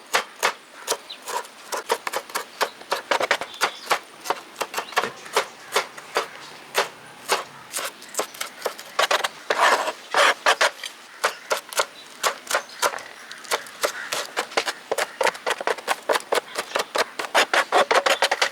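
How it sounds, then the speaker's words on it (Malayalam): Rapid knife chopping of shallots on a cutting board, steady sharp taps repeating close up for the whole stretch, with no talking. "ഉള്ളിയും ചെറുതായിട്ട് തന്നെ അരിഞ്ഞെടുക്കാം കേട്ടോ"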